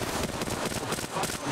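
Rapid bursts of video-game gunfire crackle through a hectic firefight in an offline multiplayer match, loud and continuous with dense overlapping shots and chatter mixed in.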